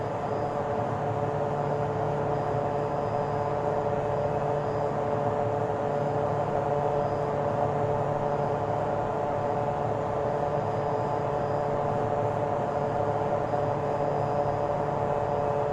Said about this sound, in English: I mean, you shouldn't be able to hear much of a plane inside the plane